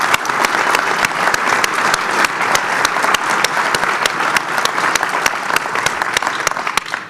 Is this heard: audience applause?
yes